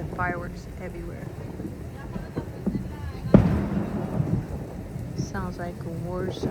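Fireworks burst across a neighborhood near Pittsburgh, distant booms and rumbles with one sharp, loud bang near the middle, while people talk nearby and whistling shells rise at the start and end.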